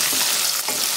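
Whole peeled garlic cloves sautéing for a poondu and small onion chutney, a steady broadband hiss of frying with a light stirring scrape midway, close and continuous with no voices.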